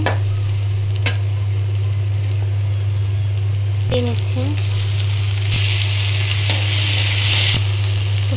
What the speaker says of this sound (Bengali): আমার পেঁয়াজ মরিচ ভাজা শেষ। এখন লবণ দিয়ে নিচ্ছি, ভালো করে ভেজে নিচ্ছি